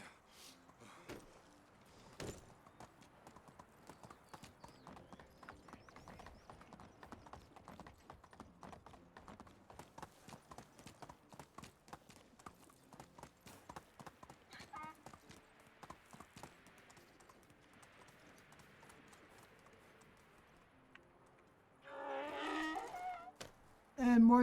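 A donkey's hooves clip-clopping at a steady walking pace on the way home, a long even run of close taps, with a brief louder shuffle and rustle near the end.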